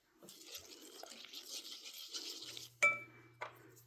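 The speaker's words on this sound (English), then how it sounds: "Gonna keep mixing and we'll be back." A spoon stirs a thick brown herbal Ayurvedic shampoo mixture in a bowl, with soft scraping swirls followed by two sharp, close metallic clinks against the rim and a ringing tone after the first.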